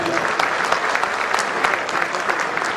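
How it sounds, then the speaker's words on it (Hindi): Loud, steady applause from a large crowd at a ceremony honoring martyrs' families, a dense, continuous clatter of clapping hands close by. "स्पेशल इनके लिए एक बार जोरदार तालियां, जोरदार अभिनंदन।"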